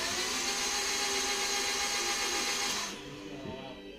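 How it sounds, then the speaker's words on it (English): A Honda Civic engine with its spark plugs removed spins over on the starter, a steady high whirring drone that runs evenly for about three seconds and then cuts off, leaving a fainter rattle, close and loud. "So now we're just gonna crank it over and watch everything that just shoot out."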